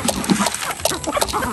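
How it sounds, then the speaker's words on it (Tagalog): Busy clucking from several chickens being fed, close and continuous, with scattered bright calls over a steady farmyard din. "Pinapakain po ni Ate Maylin yung mga alagang manok"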